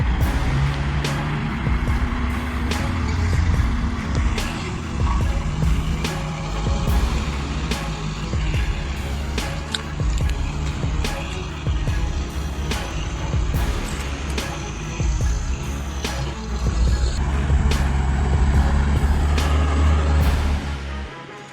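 A heavy truck loaded with old tree trunks grinds along a winding jungle trail, its engine roaring steadily and loudly throughout, punctuated by repeated knocks and clanks from the load and chassis.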